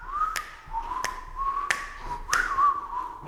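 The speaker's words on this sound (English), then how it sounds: "I have the whistling." A person whistles a wavering tune in a quiet, echoing room of an old Irish castle, with four sharp taps or knocks sounding at regular intervals over the melody.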